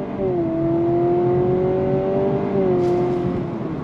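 Interior drone of a 2025 Honda Civic Hybrid pulling hard on throttle with simulated shifts, a steady rising engine tone that dips and steps at each shift, close and continuous over road noise.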